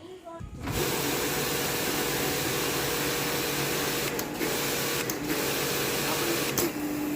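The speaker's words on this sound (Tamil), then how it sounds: "இனிமேட்டு போய்ட்டு எப்படி பம்பு இயங்குதுன்னு செக் பண்ணி பார்க்கலாம்." A high-pressure car washer pump, just repaired with new wiring, starts up and runs with a steady loud motor whine after a brief quiet start, broken by a few short surges.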